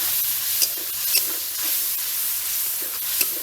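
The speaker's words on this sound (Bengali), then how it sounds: "মশলাটা একটু কষিয়ে নিই" A spice paste of ground cumin, ginger, chilli, garlic and onion frying in a pan, giving a steady soft sizzle with occasional stirring scrapes and small pops, heard alone with no talk.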